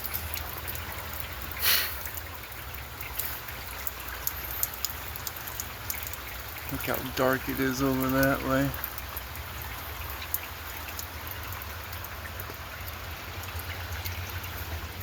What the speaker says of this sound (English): Here we go again with another downpour.